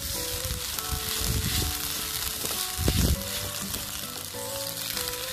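Ginger garlic paste frying with onions in a pan for a korma curry base, giving a steady close sizzle with occasional stirring scrapes and a brief louder spatter midway.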